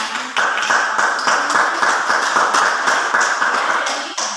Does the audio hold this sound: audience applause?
yes